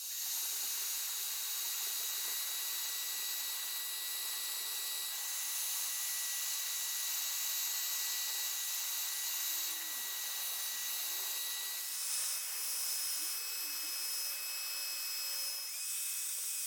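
A heat gun strips the polyurethane finish from a Fender Jazz Bass body, giving a steady, loud blowing hiss and whine that runs unbroken throughout, close up, with no talking.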